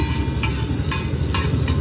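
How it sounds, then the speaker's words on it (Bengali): Onions frying in a pan for chowmein, a loud continuous sizzle with a few spatula scrapes and stirring strokes recurring over the frying. "এখন কিন্তু প্রথমে ভাজা হচ্ছে পেঁয়াজগুলো"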